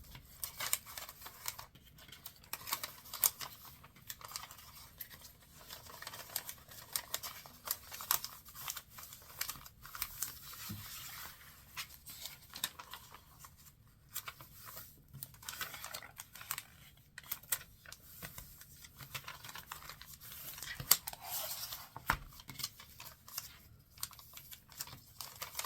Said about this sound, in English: Top right corner, bring it down, fold it over into the gutter, turn the page over